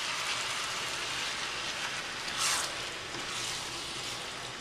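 V8 vegetable juice poured into a jambalaya pot, a steady wet pattering rush with a brief louder splash midway.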